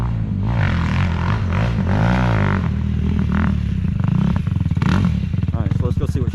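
Yamaha YFZ450R quad with a new engine running nearby, a steady loud engine drone with revving and rapid pulsing toward the end, mixed with clatter and talk over it.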